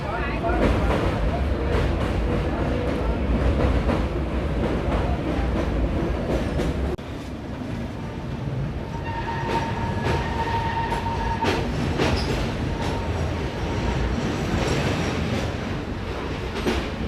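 A passenger train on the Visakhapatnam to Araku line, running through tunnels and past an old railway bridge, rumbles and clatters loudly and continuously. The tone shifts partway through, with faint squeals later.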